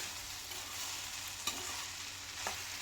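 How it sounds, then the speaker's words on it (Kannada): Broccoli sautéing in oil in a pan, a steady soft sizzle with occasional faint stirs or clicks of a utensil, fairly quiet and continuous with no voices. "ಎಣ್ಣೆಯಲ್ಲಿ ಈ ರೀತಿ 2 ನಿಮಿಷ ಬೇಯಿಸ್ಕೊಂಡ್ರೆ ಸಾಕಾಗತ್ತೆ"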